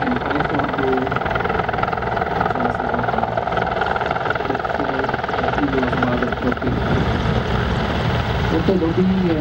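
Mil Mi-24 Hind helicopter flying a display at the NATO Days 2014 air show, a loud continuous rotor and turbine roar with throbbing blade chop, holding steady and swelling near the end.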